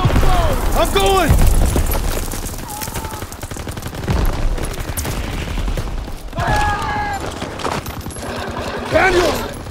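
Sustained World War II battlefield gunfire in Call of Duty WWII, with repeated rifle and machine-gun bursts and booms, loud and close, while voices shout over the shooting.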